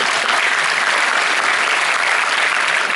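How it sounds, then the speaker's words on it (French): An audience applauding at a film premiere, a dense, even roar of many hands clapping that holds steady and loud throughout. "Vous pouvez applaudir."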